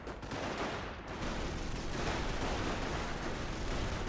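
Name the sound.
M16 quad halftrack machine gun firing, Company of Heroes video game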